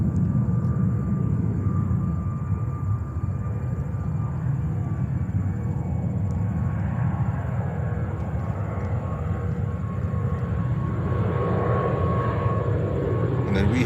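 A Brussels Airlines airliner in new livery at New York's JFK airport, its steady engine roar rumbling loud and continuous throughout, with a faint whine above it and a person talking over the noise.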